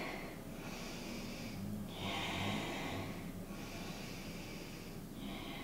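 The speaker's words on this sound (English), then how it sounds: "Let's take a few deep breaths in through the nose, out through the mouth, sigh the breath away." Slow, deep breaths drawn in through the nose and let out through the mouth during a yoga cool-down, soft airy rushes in a steady rhythm, close and quiet with no speech.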